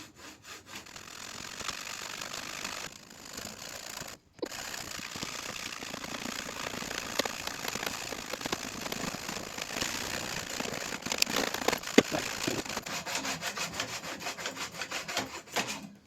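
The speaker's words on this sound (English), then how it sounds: "Might as well go big hacksaw." Large hacksaw cutting a perspex sheet clamped to a table, a steady rasping back-and-forth stroke rhythm, close and continuous with a short pause early on.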